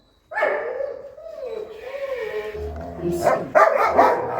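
During a training session where a dog is taught not to take food from a stranger's hand, the dog whines and then gives a burst of sharp barks, with a voice nearby.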